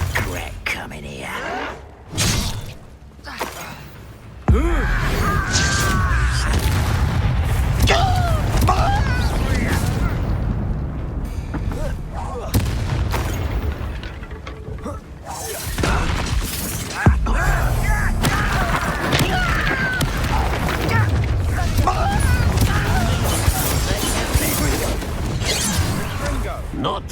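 Repeated Confringo fire-spell blasts in Hogwarts Legacy, a string of loud booms and crashes amid combat clatter, with someone talking throughout.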